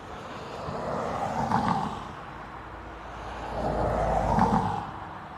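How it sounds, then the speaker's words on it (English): A Lufthansa airliner taxiing at Dublin Airport gives off a steady, moderately distant jet engine roar that swells twice, with no voices. "Lufthansa on taxi"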